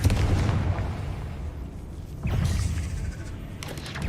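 Bombarda and Confringo explosion spells in Hogwarts Legacy, a loud rumbling blast followed by a second booming explosion midway, with debris-like crackle trailing off.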